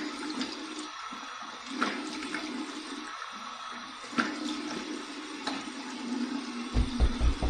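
Cold water gushes steadily from pipes for a rinse, a continuous close hiss of flowing water with a few faint knocks and a louder thud near the end, no voices.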